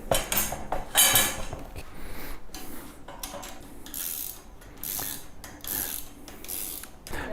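A bolt being tightened on a JK270 assembly with a ratchet: repeated metallic clicking and clanking bursts, close and moderately loud, with rattling mechanical handling between strokes and no talk.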